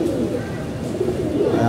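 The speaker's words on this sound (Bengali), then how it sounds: "আর আমার কবুতর তো জমিদার বসে রয়েছে।" Pigeons kept in a home loft during hot weather coo softly and continuously nearby, giving a low, murmuring, steady sound.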